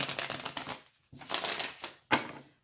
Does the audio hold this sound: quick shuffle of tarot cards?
yes